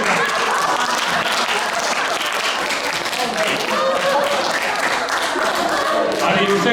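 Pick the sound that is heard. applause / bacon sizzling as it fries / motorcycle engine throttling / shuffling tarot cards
applause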